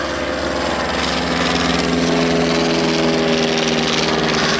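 A World War I BE-2 reproduction biplane flies at the Duxford Battle of Britain air show, its propeller engine droning loud and steady with a slowly rising and falling pitch and no voices over it.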